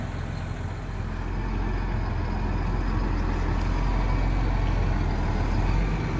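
A tractor engine runs steadily during a jump start in a farm field, a low, continuous diesel rumble close by with no talking.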